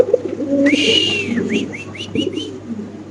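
Pigeons coo close by, one drawn-out call followed by a quick series of shorter rising coos over a low background hum.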